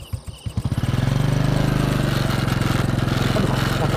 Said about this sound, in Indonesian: motornya malah nggak mau berhenti, malah jalan motornya over